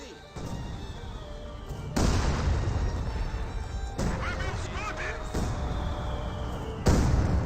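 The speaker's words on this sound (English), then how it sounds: "And these are from the 102mm mortars." In Company of Heroes 2, 102mm mortar shells burst in a busy battle soundscape: heavy booms and crashes land every couple of seconds over continuous rumbling combat noise and scattered chirping effects.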